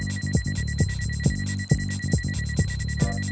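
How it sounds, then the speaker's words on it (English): A loud electronic alarm from an iWallet anti-theft wallet, separated too far from its paired phone, sounds as a repeating pulsed tone, about seven sharp beeps in quick succession with no talk. "If your iWallet and cellular phone are more than 10 to 15 feet away from one another, a loud alarm will sound."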